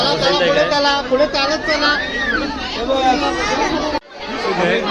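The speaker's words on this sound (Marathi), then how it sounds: "गर्दी बघता इकडे हे गर्दी झालेली आहे पूर्ण अस्वल बघण्यासाठी" Crowd chatter from visitors packed around the bear enclosure at Rani Baug zoo in Mumbai, a dense, close babble of many overlapping voices that runs continuously, dipping briefly near the end.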